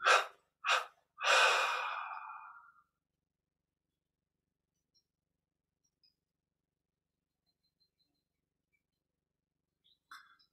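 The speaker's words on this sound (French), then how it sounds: "Puis on prend une inspiration profonde. Expire en 3 fois et arrêt momentané de la respiration." Three separated breath exhalations during guided meditation, two short bursts followed by a longer trailing out-breath, close and clear, then near silence with a faint breath at the end.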